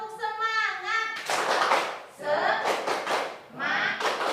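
Schoolchildren in a classroom doing a rhythmic clapping chant, bursts of group claps and chanted voices alternating, close and lively.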